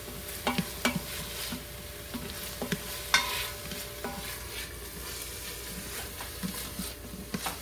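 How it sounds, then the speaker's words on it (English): Onions and peppers sauté in an Instant Pot, a steady soft sizzle with repeated spoon stirs and scrapes tapping at irregular intervals throughout. "Make those onions and pepper get a little bit soft."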